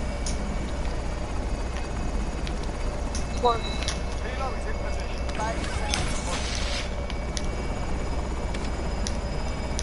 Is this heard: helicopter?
yes